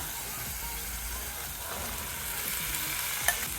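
Boiled chickpeas being stirred and sautéed in a ginger masala in a pan, a soft continuous sizzle with light stirring scrapes, a faint clink near the end, no talk.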